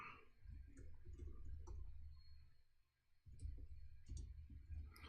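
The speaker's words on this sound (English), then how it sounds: "Let me type this down." Quick clicky keystrokes on a computer keyboard come in short bursts with a pause in the middle, quiet and close, over a low background rumble.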